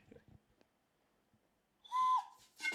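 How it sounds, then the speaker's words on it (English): A single short whistle blown near the end, a bright sustained tone lasting about a quarter second, followed by a brief noisy burst in an otherwise quiet room. "give me a whistle"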